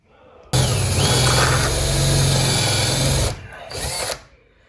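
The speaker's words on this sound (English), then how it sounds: "Now I'm hitting the wood, and this is not a very sharp blade, but at least I've got the hole started there." A power drill fitted with a fairly dull spade bit bores a hole through wood. A loud, steady whirring grind runs for about three seconds, then cuts out and briefly restarts before stopping.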